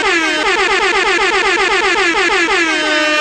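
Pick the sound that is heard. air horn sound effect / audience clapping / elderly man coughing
air horn sound effect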